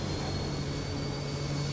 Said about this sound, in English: I hear a jet behind me, folks.